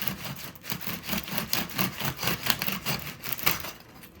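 A double-bladed bread knife saws through a sourdough loaf in quick rhythmic back-and-forth strokes, close and crisp, with the crust rasping on each pass and no talking.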